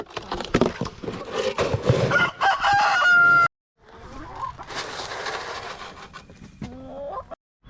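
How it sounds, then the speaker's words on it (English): Chickens cluck and squawk close by in bursts, with a rooster crowing partway through and a brief silence between calls. "I have to give these chickens their feed"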